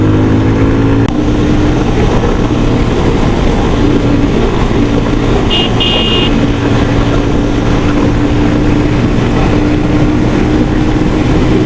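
A Yamaha FZ25 motorcycle is ridden at speed, producing a loud, steady engine drone with constant rushing wind noise and a brief high-pitched tone partway through.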